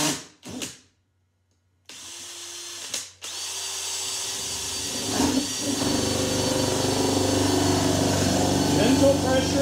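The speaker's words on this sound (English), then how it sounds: "Gentle pressure, and you'll see that it's drilling the hole for us" A power drill bores a hole in a clamped wooden bird house, starting with short bursts and stops, then settling into a sustained whirring grind that grows louder as the bit bites in.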